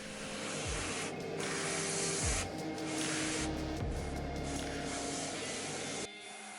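An airbrush sprays a light dust coat of Alclad dark aluminum onto a 3D-printed Infinity Gauntlet replica prop, giving a continuous close hiss with faint low hum and shifting tones before cutting off near the end.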